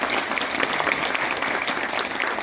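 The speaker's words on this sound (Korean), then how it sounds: "정동훈 학장님께 다시 한번 뜨거운 박수 부탁드립니다" An audience at a merchants' graduate school graduation ceremony gives a dense, even round of applause for the dean, the clapping steady and close throughout.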